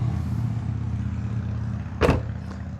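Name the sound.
traffic noise on a busy street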